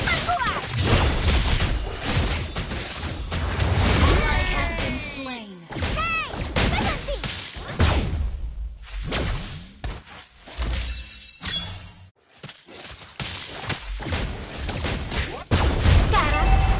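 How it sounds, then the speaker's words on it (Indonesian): Rapid gunfire bursts from the marksman hero Layla in the Mobile Legends mobile battle game, dense layered shots and impact crashes mixed with game effects, loud and continuous with brief gaps, under a voiced character line. "Tembakan cepat keluar."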